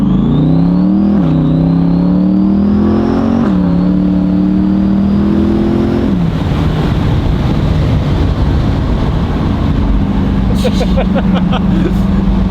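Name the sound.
Demon Eye Corvette engine whine while revving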